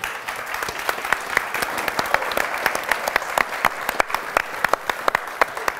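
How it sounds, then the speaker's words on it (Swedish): Warm audience applause closes a Swedish cultural policy panel featuring political youth league representatives, a steady crowd of clapping hands with distinct sharp claps standing out, moderately loud with no talking. "Jag tycker vi avslutar med att ge dem en varm applåd"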